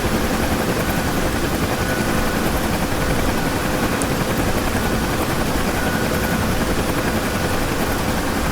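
A Huey UH-1 helicopter in the DCS World flight simulator, on a rescue flight on the Cold War map, gives a steady, loud rotor thump and turbine roar without pause, with no talk over it.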